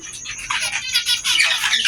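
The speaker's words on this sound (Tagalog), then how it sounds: "yung mga ibon ko dito sa malaking cage na to" Several pet cockatiels in a large cage squawk and chirp close by, their harsh calls overlapping continuously and loudly for the whole stretch.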